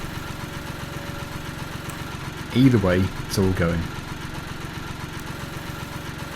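A compact tractor idles in a farming simulator game, a steady low, even engine rumble holding at one level throughout while a voice speaks briefly over it in the middle.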